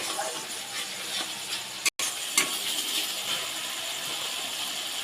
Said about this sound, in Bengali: মশলাটাকে ভালো করে একটু কষিয়ে নেব।